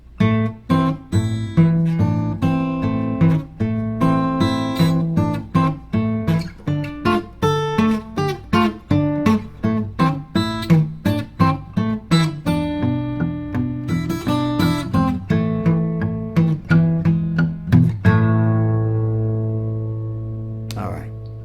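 Fingerstyle acoustic guitar playing the Spiderman theme at full speed: a brisk, steady stream of close plucked notes with a bass line under the melody, ending on a ringing chord that fades out.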